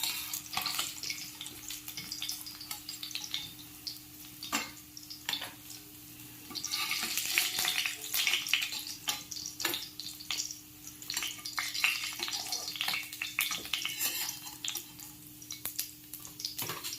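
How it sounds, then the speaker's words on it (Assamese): Pieces of katla fish fry in a pan with a continuous crackling sizzle and occasional utensil clinks, growing louder and busier about midway before settling into an even spatter. "এতিয়া বাকীখিনিও মই ভাজি ল'ম এনেকৈ।"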